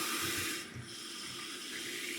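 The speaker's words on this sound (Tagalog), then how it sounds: "Lagay tayo ngayon ng tubig, guys." Water runs in a steady, close, hissing stream, as if poured or filling from a tap, with a brief dip midway before it continues evenly.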